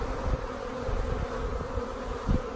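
Honeybees buzz in a dense, continuous drone around a hive, close and steady, with occasional low thumps beneath and no talking.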